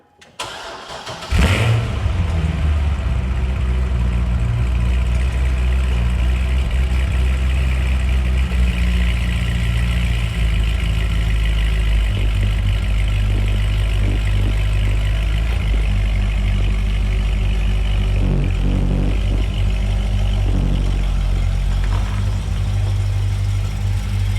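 A Corvette C6 Z06 engine starts with a sharp burst and then holds a loud, steady, deep running note close by as the drive gets underway, with no talking over it.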